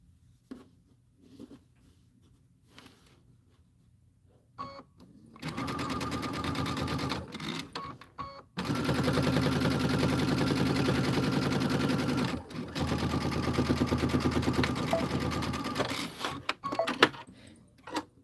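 A sewing machine piecing quilt fabric at a 2.0 stitch length runs in long, loud, steady bursts after a quiet start with a few faint clicks and handling noises. It stops briefly between runs of stitching.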